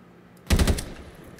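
A short burst of automatic fire from the MCW rifle in Call of Duty, several rapid close shots in quick succession after a quiet moment, then fading.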